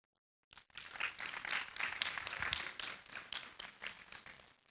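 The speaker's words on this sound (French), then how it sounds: "qu'on applaudisse très très fort, mais alors très très fort" Audience applause at a live event, a dense burst of many hands clapping that starts abruptly after a moment of silence and holds steady, loud and close, with no speech over it.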